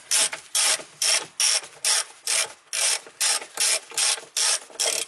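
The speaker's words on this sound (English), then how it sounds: "we need this 10mm socket, and then wrench, and then I only a little bit rotate that over" A ratchet wrench fitted with a 10mm socket clicks through about a dozen short bursts of pawl ratcheting in a steady back-and-forth rhythm, close and crisp with nothing else around it.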